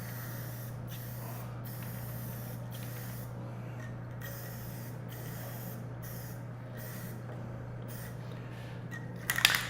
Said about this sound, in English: The one thing you never do with a can of spray paint is hold the nozzle down and do this and move it around